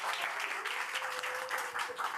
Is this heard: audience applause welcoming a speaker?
yes